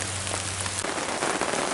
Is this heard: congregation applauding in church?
no